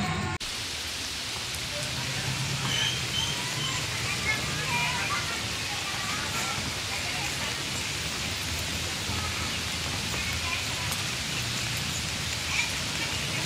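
Steady rain pours down during a flood in Jakarta, a dense even hiss of falling drops that continues for the whole stretch, with faint voices beneath it.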